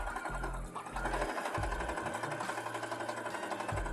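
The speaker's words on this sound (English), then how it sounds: "Now we sew on both sides of that line" A sewing machine runs in steady bursts, stitching two quilting fabric scraps placed right sides together along a diagonal line, its motor whirring close and loud with brief pauses between runs.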